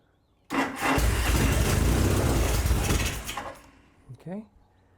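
A Norton motorcycle engine fires on its first start and runs loud and rough for about three seconds before cutting out, followed by brief talk nearby.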